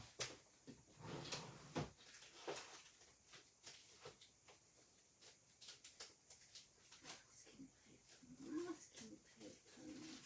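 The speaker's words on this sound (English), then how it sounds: "have a look and see in my drawer over here behind me if I can find my strips" Someone rummages through an adhesives drawer in a craft room, with irregular knocks, slides and clatters of items being shifted about, close and moderately loud, and a voice heard briefly.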